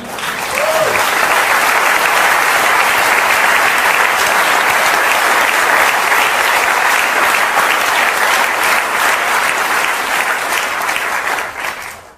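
Theater audience at a German political cabaret show breaking into loud, sustained applause, dense clapping filling the room for several seconds before tapering off, with a brief voice at the start.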